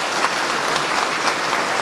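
Steady, dense applause from a seated audience at a forum on Schafik's thought, welcoming speaker Raúl Yarul, with many hands clapping at close range and no voices over it.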